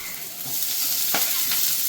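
Onions hit hot oil and sizzle loudly up close, the crackling hiss swelling after a quiet start with a couple of brief stirring clatters, and no talking.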